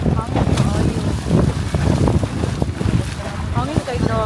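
Wind gusting over a small boat on a trip to Caohagan Island, with buffeting rumble on the microphone and water sounds beneath, while voices talk throughout.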